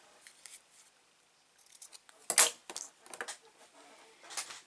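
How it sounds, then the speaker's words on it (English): Scissors trimming craft string near tape during paper snowflake and angel making, several sharp close snips and small metallic clicks, quiet and separate, without talking. "I am going to trim my string a little bit below that tape."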